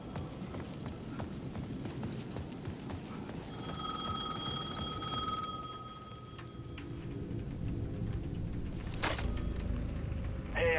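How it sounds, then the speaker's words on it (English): In the Alan Wake 2 video game, a payphone at the edge of a plaza rings with a sustained electronic tone that starts partway through and later cuts off, heard over a steady, rhythmic clopping ambience and sharp clicks, with no speech. "The payphone at the edge of the plaza was ringing again."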